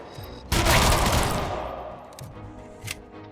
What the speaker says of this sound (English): God, this pistol's dumb.